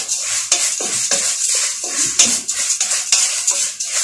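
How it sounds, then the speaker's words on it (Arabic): Vermicelli toasting in a pot on a gas stove is stirred steadily, a utensil scraping and clinking against the metal under a soft, continuous sizzle, with no talking. "علشان ما نسيبش الشعرية لوحدها على البوتاجاز خالص، لازم ايدينا في قلبها كده"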